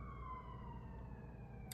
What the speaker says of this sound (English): Apologies for the sirens.